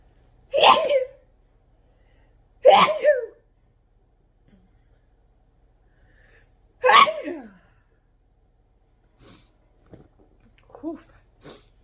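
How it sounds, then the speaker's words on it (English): Three sharp, explosive sneezes sound close by, spaced a few seconds apart, followed by a few faint sniffs and small noises. "Oh, I'm going to sneeze."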